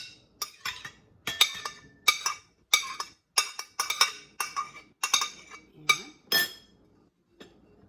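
Chopped boiled egg is moved into a bowl with a utensil, producing a steady series of sharp clinks and taps of metal on dishware, close by, roughly every half second.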